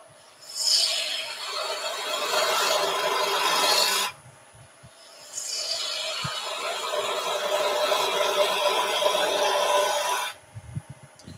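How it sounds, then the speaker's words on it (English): A spindle gouge cuts a wooden baby toy turning on a lathe, giving two long bursts of close, hissing, scraping contact separated by a short pause. "So a little spindle gouge, just refining that shape."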